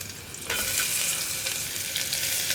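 Onion and green chilli sauté in a hot pan for a potato curry, a steady close sizzle that jumps louder after a half-second quieter start and then holds evenly throughout.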